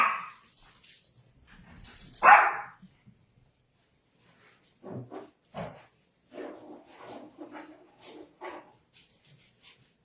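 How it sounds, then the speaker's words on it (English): Dogs bark in a home setting during a live online chat, several sharp barks and yips scattered at a moderate distance, separated by quiet gaps, with some whimpering between them. "I'm going to hush those dogs up."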